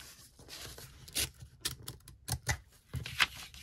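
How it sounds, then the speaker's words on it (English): A letter opener slits through a paper envelope in a close, quiet run of short scraping and tearing strokes with brief pauses between them, no talking. "I'm going to do this with a letter opener. I need to open up the whole envelope."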